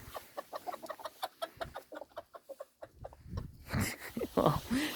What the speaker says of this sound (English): they're either excited or horrified, which sounds correct for chicken